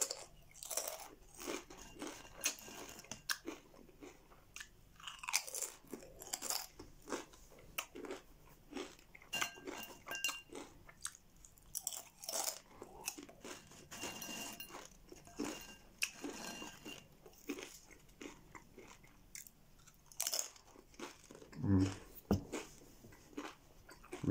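Crunchy original Doritos are eaten up close. Quiet, irregular bites and crisp crunching repeat throughout, with no talk.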